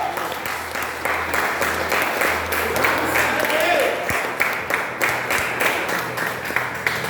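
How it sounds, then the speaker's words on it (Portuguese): Continuous applause from a crowd, steady and fairly loud, with some voices mixed in throughout. "Você pode aplaudir ao Senhor?"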